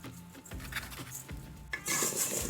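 Diced potatoes being tossed with Italian dressing seasoning make a short burst of scraping and clinking against a dish, ending in a louder rattling shake.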